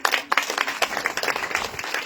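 An audience claps for a doctor: scattered, uneven handclaps from a small crowd, moderately close, lasting about two seconds.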